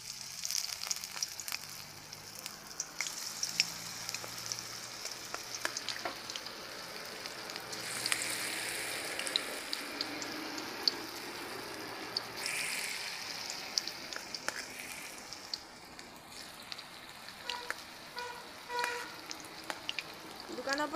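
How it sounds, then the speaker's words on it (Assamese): Pakoras fry in hot oil in a wok, a steady crackling sizzle that runs throughout with brief louder bursts and faint scraping, fairly close and without talk. "এতিয়া ইয়াতে মই পকৰী দি দিছোঁ।"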